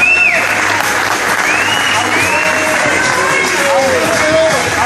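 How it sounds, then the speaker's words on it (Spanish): Loud, steady applause from parents and spectators for a 2008-birth-year youth football category at a team awards event, filling the clip with dense clapping while a crowd whistles and calls out underneath. "Un fuerte aplauso para todos 2008."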